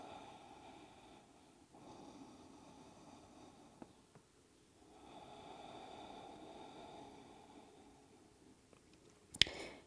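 Soft, drawn-out breaths during a yoga practice, a slow inhale and exhale repeating in a gentle rhythm, quiet and close, with a sharp brief noise at the very end.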